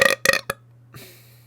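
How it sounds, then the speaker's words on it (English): A person burps loudly and close up in a few quick throaty pulses, then a faint rustle follows. "I burped."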